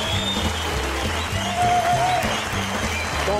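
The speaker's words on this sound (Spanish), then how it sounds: "Un aplauso para él," A studio audience claps briefly, a dense spread of applause throughout, with faint tonal sounds in the background.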